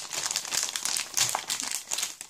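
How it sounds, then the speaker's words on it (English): A padded mail envelope holding a cable crinkles and rustles as it is squeezed and handled, close, loud and continuous for a couple of seconds. "This is the similar envelope, so let me feel it."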